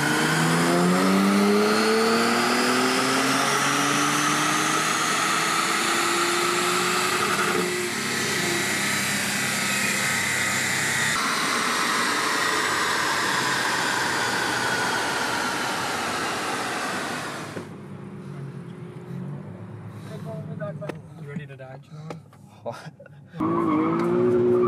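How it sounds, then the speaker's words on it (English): Nissan Z drifting out after dyno tuning, its engine roaring under heavy throttle while the tires squeal continuously for about seventeen seconds, then the noise drops away into quieter engine sound and a brief final burst, close and loud. "we pulled the car off the dyno and we were gonna do a nice little drift on the way out"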